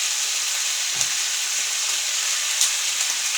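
Chicken feet adobo sizzles loudly and steadily in a pan, a dense hiss, with a couple of faint scrapes as it is stirred.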